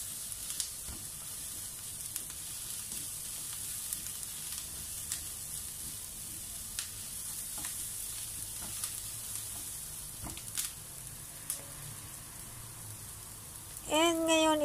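Garlic and onion aromatics sizzle gently in a pan for a Filipino string bean adobo, a soft continuous frying crackle with scattered pops and a brief stir. A voice speaks at the very end.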